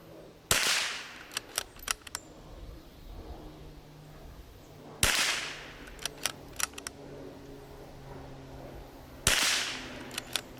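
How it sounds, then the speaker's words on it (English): A .22LR rifle fires RWS R50 ammunition outdoors. Three sharp, close cracks ring out roughly four seconds apart, each followed by faint ticks, over light wind noise. "What we're gonna do is shoot at the bottom left corners of the boxes."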